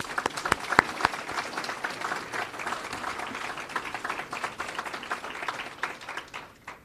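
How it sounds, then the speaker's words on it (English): Applause breaks out for Amazon fulfillment associates at the grand opening of an Edison, New Jersey fulfillment center, a crowd's steady clapping with a few sharp louder claps early on, moderately distant and sustained throughout. "Please join me in giving them a round of applause."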